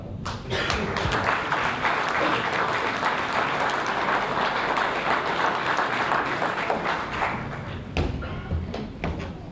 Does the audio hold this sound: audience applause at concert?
yes